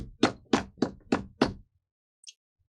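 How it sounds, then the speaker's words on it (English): Five firm, evenly spaced knocks on a door, loud and close, followed by silence and a faint brief click. "they hear a knock at the door"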